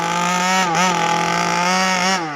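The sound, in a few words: rebuilt 36cc engine of a Baja RC car revving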